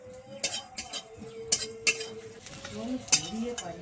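Spice mix for dudh shukto dry-roasted in a pan, with a few sharp metallic scrapes and clinks of a spoon against the pan over a faint low crackle, close by and intermittent.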